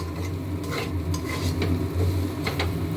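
Dried fish and vegetables are stirred in a pan, with repeated scraping strokes of a utensil against the metal over a soft, ongoing sizzle, all heard up close.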